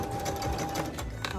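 A sewing machine back-stitching ribbon trim for a tutu, a short burst of quick, rhythmic needle chatter at close range, fairly quiet.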